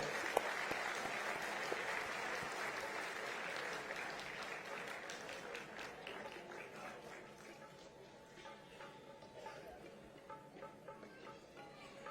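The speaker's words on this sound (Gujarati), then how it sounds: "આપણી તાળીઓના વિવેક સાથે રવિન નાયકને આપણે આવકારીએ" An audience at a Gujarati cultural event claps to welcome Ravin Nayak, a dense burst of applause that gradually thins into scattered individual claps toward the end.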